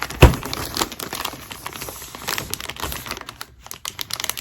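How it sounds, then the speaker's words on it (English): A mailer package for a quilt shop fabric box being cut open, with close crinkling and rustling of plastic and paper, sharp crackles and scraping, irregular and moderately loud. "So let's get it cut open."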